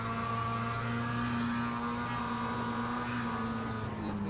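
A Mazda MX-5 race car engine in iRacing at Imola drones at steady high revs, a loud, sustained buzzing tone without pauses.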